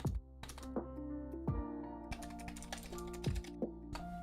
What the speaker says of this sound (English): It has been brought to my attention that you guys can hear when I type.